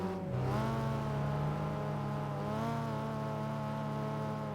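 A race car engine in Gran Turismo 5 revs up and holds a high, steady, harmonically rich whine, with a second engine layered beneath, loud and continuous without talk.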